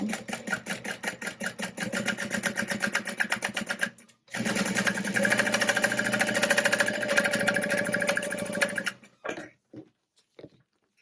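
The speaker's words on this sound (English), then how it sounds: "Okay, so I'm gonna sew down all sides." A sewing machine stitches in fast rhythmic bursts, stopping briefly, then running again before a few short final stitches.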